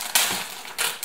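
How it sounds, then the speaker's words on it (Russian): A Rollton instant noodle packet is torn open up close, a sharp crinkling rip followed by a second brief rustle of plastic. "Берем, открываем ролтон."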